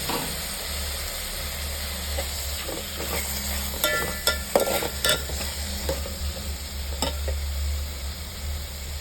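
Chopped tomatoes and onion sizzle in a pan for cashew paneer masala while a spoon stirs them, a steady frying hiss punctuated by clustered scraping clinks in the middle, over a low hum.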